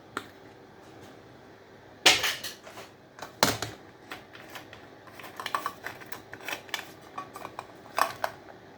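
Brittle aluminium is cut off electrical scrap in sharp metallic snips and clicks, a few loud cuts followed by a run of quieter irregular clinks, close and with no talk.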